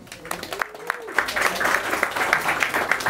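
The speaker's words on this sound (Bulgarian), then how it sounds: "Така че, аплодисменти за Борислав." Audience applause for a performer at a Bulgarian stage show, a dense burst of clapping that builds and stays steady, with some voices and crowd noise mixed in.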